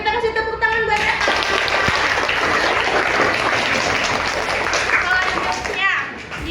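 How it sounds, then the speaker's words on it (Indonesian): Classroom clapping for a student named Reva, a burst of many hands applauding close by that starts after a brief lead-in, holds steady for several seconds, then tapers off as the room settles. "Kita kasih tepuk tangan buat Reva."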